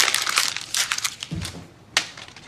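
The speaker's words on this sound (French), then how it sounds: "Autant chiffonner ton bout de papier." A piece of paper is crumpled in several crinkling bursts, close and crisp, with a sharp final crush near the end.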